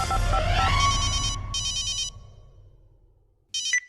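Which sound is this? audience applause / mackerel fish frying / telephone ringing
telephone ringing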